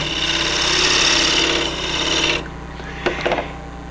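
A woodturning gouge cuts into a spinning wooden quaich bowl on a lathe, giving a steady close rasping shave that stops partway through, followed by a few brief scraping knocks.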